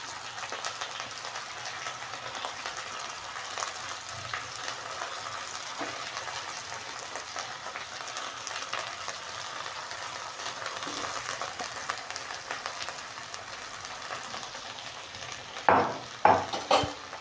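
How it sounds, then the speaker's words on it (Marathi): Chickpea leaf greens fry in oil with salt and chili while being stirred in a pan, a steady soft sizzle with faint scraping and a few louder clanks near the end. "आता काय करू थोडेसे मिक्स करून घेऊ म्हणजे तेल मीठ मिरची सगळीकडं भाजीला लागले जातात"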